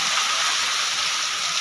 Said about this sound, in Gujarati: અમારે બહુ જ વરસાદ આવ્યો